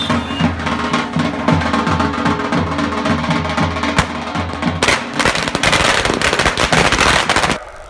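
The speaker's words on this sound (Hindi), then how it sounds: "पटाखे का कचरा कौन साफ करेगा?" Firecrackers explode in long, rapid, loud bursts of crackling pops, a dense chain of bangs that thickens into a continuous roar before cutting off.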